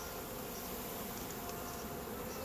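A honey bee swarm being collected gives a steady, fairly faint buzzing hum with no breaks and no voices.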